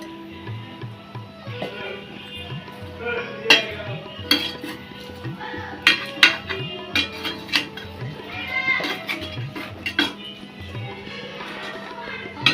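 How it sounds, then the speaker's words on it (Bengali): Potatoes and yardlong beans tumble into a cooking pot for a fish-head curry, followed by clattering metal utensils, stirring scrapes and a faint sizzle, irregular and close. "বরবটি এবং আলুগুলো দিয়ে দিলাম"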